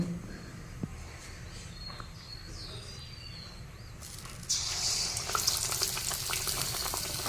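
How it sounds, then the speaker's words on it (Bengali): Batter-dipped eggplant slices frying in oil start with a soft, distant crackle that grows louder and busier about halfway through as more pieces go into the hot oil. "এবার একে একে বেগুনিগুলো ভেজে নেব"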